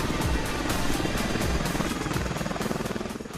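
An Apache combat helicopter thunders close by, its rotor blades beating in a fast steady pulse over a dense roar that eases slightly toward the end.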